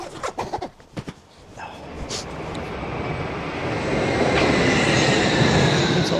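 Train passing near an airport in Germany, a broad rumbling roar that swells and holds loud and close, after a few sharp clatters at the start.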